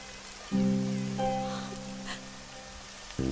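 Steady rain falls across the whole scene as a continuous hiss, with sustained musical tones swelling in beneath it partway through.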